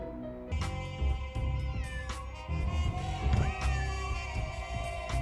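A cat meows repeatedly in Nancy Drew: Secret of the Old Clock, loud and close, its drawn-out pitched cries rising and falling over game music with no talking.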